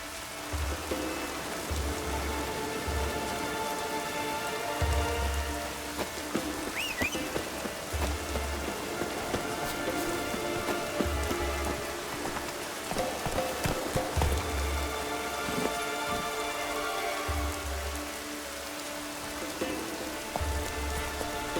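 Heavy rain pours steadily in The Witcher 3: Wild Hunt, a dense hiss of drops with a low rhythmic rumble underneath and occasional faint whistling tones.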